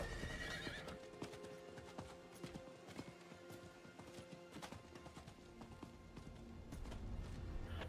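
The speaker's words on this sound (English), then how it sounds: "Just ride the horses straight into the portal." Rapid clip-clop of horses galloping in the video game Diablo IV, with repeated whinnies over a steady rhythmic beat, fairly close.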